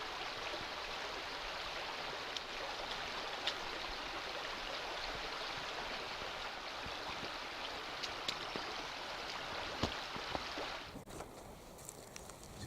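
Water rushes and gurgles steadily nearby on a forest trail in Red River Gorge, a continuous flowing wash that ends abruptly near the close.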